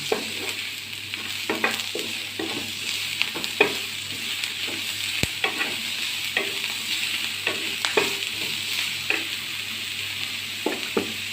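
Spatula scrapes and stirs chopped capsicum into a chicken filling for jackfruit chicken rolls in a pan, with a steady sizzle underneath and irregular clinks and scrapes close by, no voices.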